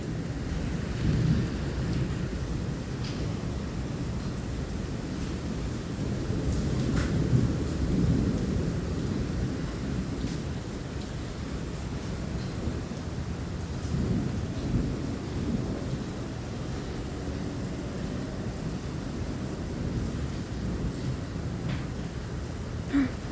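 Thunderstorm with hail and heavy rain: a steady, dense wash of rain with low rolling thunder rumbling throughout, loud and close, with no talking.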